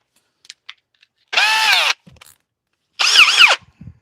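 A drill spinning a bit wrapped in 120-grit sandpaper for woodturning cherry wood whines in two loud, separate bursts of about half a second each, with quiet clicks and handling noises between them.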